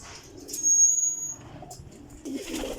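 Golden female racing pigeon cooing, soft low murmurs with a brief high tone, close and fairly quiet.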